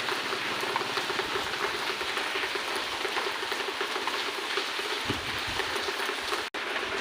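Steady rain falls continuously, a dense even hiss of drops on surfaces with no voices.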